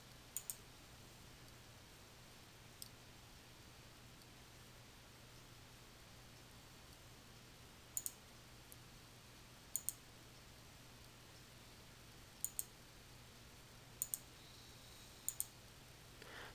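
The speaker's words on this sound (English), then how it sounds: "click the OK button to see the new data" A computer mouse clicks faintly while working in Crystal Reports 2013, about half a dozen sharp, isolated clicks, some in quick pairs, spread over a steady hiss with no voices.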